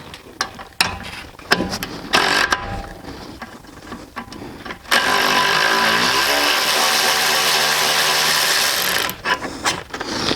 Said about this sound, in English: I've got this little power tool that I like to use